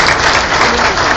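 Audience clapping loudly after an interview session, a dense and steady burst of applause close up, lasting only a moment.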